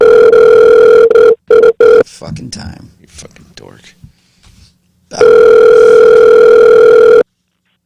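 A phone's steady dial tone drones loudly, cut off by clicks as someone fiddles with the phone, then returns; a man swears over the gaps.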